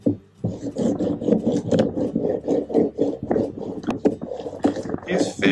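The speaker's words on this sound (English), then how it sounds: "do a pulling and sawing motion with your hands" A knife saws back and forth along the skin of a gag grouper fillet, giving rhythmic rasping scrapes close by, with a person talking over them.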